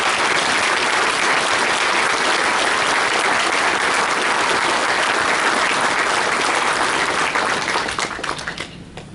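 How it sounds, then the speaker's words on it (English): Loud, dense applause from a large audience at an annual dinner, a continuous wash of clapping that holds steady for several seconds before tapering off at the end. "So everybody, a round of applause for Randy,"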